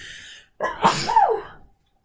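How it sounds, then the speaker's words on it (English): A single close, loud sneeze with a sharp breathy burst, preceded by a brief quiet inhale. "Oh, I'm going to sneeze."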